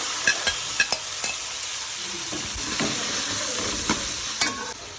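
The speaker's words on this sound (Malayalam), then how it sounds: "കറിവേപ്പില ഇട്ട് കൊടുക്കുക നന്നായിട്ടൊന്ന് വഴറ്റി കൊടുക്കുക" Curry leaves, ginger-garlic paste and tomato sauté in a pan for a bitter gourd and sardine curry, with a steady sizzle broken by repeated sharp scrapes and taps of a spoon stirring, close and with no talk.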